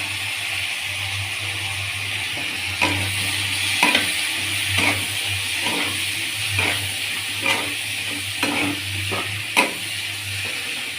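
Bitter gourd pieces with chopped green chilli frying in hot oil with turmeric and salt, a steady sizzle broken by repeated stirring scrapes and clatters of a spatula at a close distance, with no talk.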